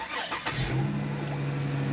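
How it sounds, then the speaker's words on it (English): A Chrysler 3.6L Pentastar engine cranks and fires up, catching after a brief starter whir and settling into a steady idle hum close to the microphone, with a faint knocking said to accompany the start. "we still have some type of knocking when I start it"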